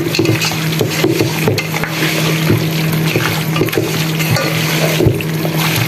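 About two kilograms of meat being stirred together with yogurt for Hyderabadi biryani, giving a continuous wet, squelching churn with repeated scraping knocks against the pot, close and fairly loud, with no talk.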